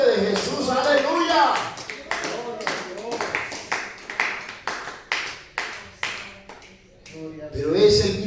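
A church congregation applauding in rhythmic waves, a series of roughly evenly spaced bursts of clapping, with a voice speaking over the start and end.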